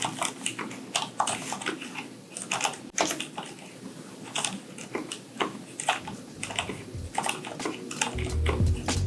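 Fingers type on a Cherry KC 200 MX mechanical keyboard, a fast, irregular run of soft clicks and clacks heard close, with a brief louder knock near the end.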